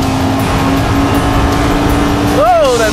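Audi R8 5.2 FSI Spyder engine droning steadily, loud and close, while someone talks over it, with a brief rising rev near the end.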